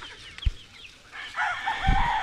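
About fifty chickens cluck close by on a rooftop, with a rooster crowing loudly toward the end, a busy coop with no talking.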